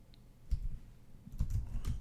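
Computer keyboard typing, a few quick bursts of key clicks with pauses between, close and fairly quiet, no voices.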